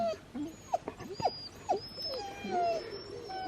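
Several sled dogs whine and yip restlessly before a run in deep cold at around minus 23 degrees Celsius, a close-up chorus of rising and falling whimpers, some overlapping, with no talking.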